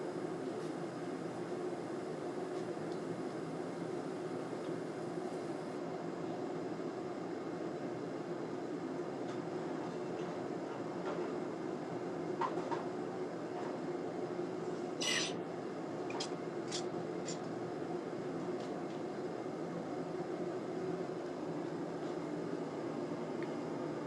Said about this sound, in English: It's kind of like a jet engine while the forge is running.